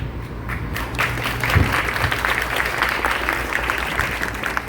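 An audience at a museum cinema event applauds steadily in a dense, continuous wash of clapping that holds at an even level throughout.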